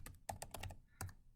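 Several quick clicking keystrokes tap out a search on a computer keyboard, in short irregular bursts, faint and close with no voices.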